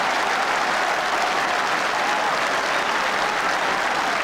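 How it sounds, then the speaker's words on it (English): A stadium crowd at Fitzgerald Stadium, Killarney, applauds warmly during the 1987 Munster hurling final replay between Cork and Tipperary, a dense, continuous roar of clapping filling the whole stretch. "listen to the warm round of applause ringing around Fitzgerald Stadium in Killarney"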